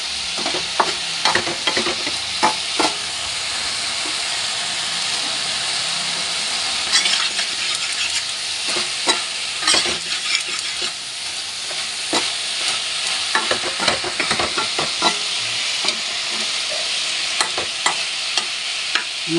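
A spiced curry is stir-fried on a gas stove with a steady loud sizzle and frequent sharp spatula scrapes and clacks against the pan, rhythmic but uneven, close up with no voices.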